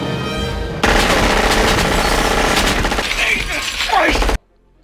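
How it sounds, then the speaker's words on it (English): Gunfire crackles in the Die Hard shootout scene, dense rapid automatic bursts and shots with shattering debris over a loud cinematic mix, ending abruptly. "an all-time shootout occurred"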